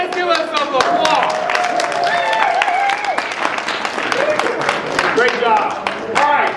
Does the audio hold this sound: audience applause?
yes